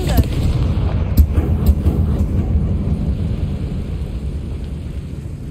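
A Confringo blast spell goes off in Hogwarts Legacy, a heavy rumbling boom with a sharp crack near the start, then a few lesser thuds over a sustained low roar that slowly fades.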